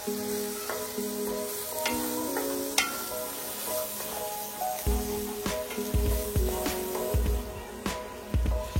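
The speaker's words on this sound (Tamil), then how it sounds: "இந்த ஆயில்ல இந்த மசாலா எல்லாம் நல்லா ரோஸ்ட் ஆகணும்" Spice masala with coriander powder roasting in hot oil for Chettinad chicken gravy, a steady close sizzle broken by repeated scraping and stirring strokes of a spoon in the pan.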